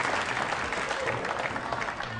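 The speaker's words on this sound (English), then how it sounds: "the crowd have really erupted" At a Weber Cup bowling match, a crowd bursts into loud, continuous applause and cheering that fills the space, with voices mixed into the clapping.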